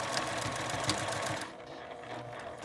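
A sewing machine runs steadily, stitching a seam on a drawstring bag, with a continuous whirring rattle that stops partway through, leaving quiet room noise.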